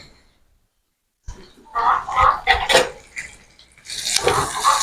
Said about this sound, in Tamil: வட்டி வச்ச வெங்காயம் பச்சை மிளகாய் எல்லாம் போட்டாச்சு. இனி நாங்கள் இதை வந்து வடிவாக கிண்டி விடணும்.